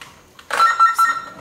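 A telephone rings nearby in a home, with a few short repeating electronic trill bursts following a soft click, clear and loud with no talk over it.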